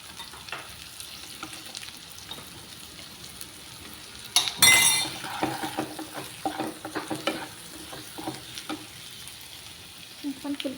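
Eggs are added to a taro curry in a pan, with a soft, steady sizzle and a sudden loud splash-like burst, followed by irregular stirring scrapes and light clinks, close up and without speech.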